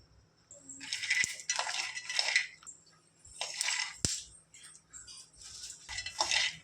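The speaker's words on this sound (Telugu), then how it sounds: "ఫస్ట్ ఒక హాఫ్ కేజీ పల్లీలు వేయించుకోవాలి ఫ్రై చేసుకోవాలి" Half a kilo of peanuts dry-roasting in a pan for peanut and sesame laddus, stirred so they rattle and scrape in several loud bursts with short pauses between, no voices.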